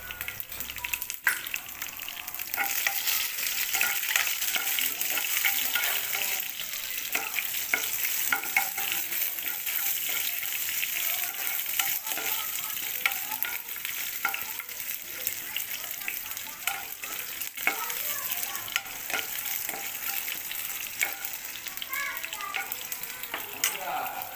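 Cumin, mustard seeds and garlic fry in a hot pan, a dense, steady sizzle with crackling pops and stirring scrapes running throughout, close and fairly loud.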